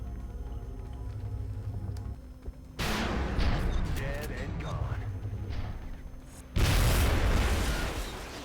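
A cyberdisk blows up on destruction in XCOM Enemy Within, two heavy explosive booms with crackling debris, each bursting loud after quieter game ambience, no speech over them.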